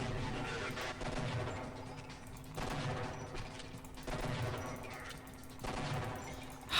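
Gunfire from the video game Half-Life comes in several rapid bursts with short pauses between them, fairly faint and mid-distance, with no talk over it.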